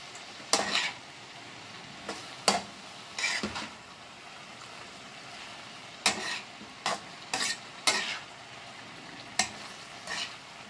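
Vegetables for stir-fried pansit bato being stirred in a pan with reduced oil, giving scraping, clattering strokes in irregular bursts over a quiet background, close and fairly clear, with no talking.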